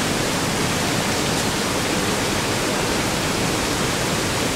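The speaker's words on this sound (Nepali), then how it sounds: "अहिले यो झरना घटेको अवस्थामा छ" Devi's Falls in Pokhara, Nepal, running at reduced flow, gives off a steady, dense roar of falling water that stays even and unbroken throughout, with no voices.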